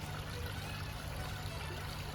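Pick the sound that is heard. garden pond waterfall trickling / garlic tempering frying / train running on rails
garden pond waterfall trickling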